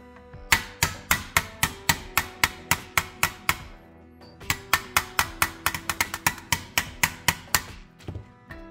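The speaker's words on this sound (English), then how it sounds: "I think I'm going to try to pound that out before powder coating." A hammer pounds out a small dent in a metal part before powder coating: two runs of rapid, evenly spaced loud ringing blows, close by, with a short pause between them and no talking.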